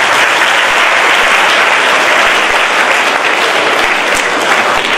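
A crowd at a school event gives loud, sustained applause for a foundation chairman, a dense, continuous roar of many hands clapping close by for several seconds.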